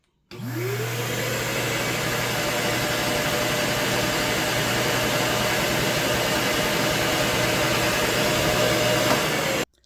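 A DeWalt wet-dry vacuum switches on and runs steadily with a loud, constant whirring roar, its motor pitch rising briefly at startup before cutting off at the end.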